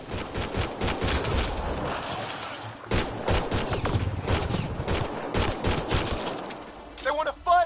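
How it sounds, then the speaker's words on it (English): Rapid bursts of automatic gunfire and weapon blasts crackle through a firefight in the video game Mass Effect Andromeda, dense and loud, with voices calling out amid the shots. "They shot him!"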